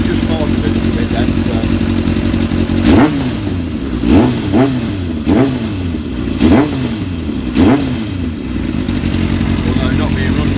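A Kawasaki ZX7R motorcycle engine, started after six years unused, idles close by while the throttle is blipped in a series of about six sharp revs rising and falling.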